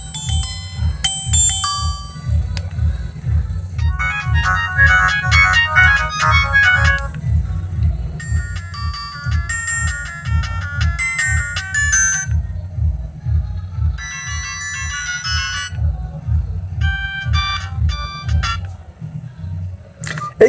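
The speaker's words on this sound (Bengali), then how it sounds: "চলুন দেখা যাক যে ফোনটির রিংটোনের সাউন্ড কেমন।" A Symphony T93 feature phone plays a built-in ringtone: a loud, looping electronic melody in short phrases over a steady pulsing bass beat, with no talking.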